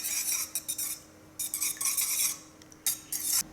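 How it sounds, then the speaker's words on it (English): A utensil stirs corn dog batter of egg and milk in a bowl, with bursts of bright scraping and clinking in irregular strokes, close and alone. "and milk. One. And just mix them together."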